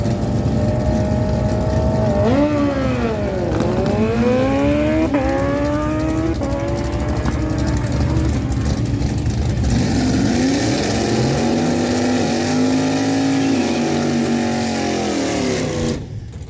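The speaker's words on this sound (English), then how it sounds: "ilson bringing it in left side of the track, brings in the 2006 Suzuki GSXR, 948 dial. Ray Mayberry lined up beside him, 2012 Kawasaki ZX 14R Turbo, 765 dial." Drag racing motorcycles at a dragway, a 2006 Suzuki GSXR and a turbocharged 2012 Kawasaki ZX 14R, roar loudly and continuously, engine pitch climbing through repeated gear shifts and then cutting off abruptly.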